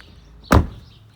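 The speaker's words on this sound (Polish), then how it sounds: "Otwieram tylne drzwi po stronie prawej" Rear right door of a 2016 Volkswagen Tiguan 2.0 TDI Highline opening with a single short, close thud or click in otherwise quiet surroundings.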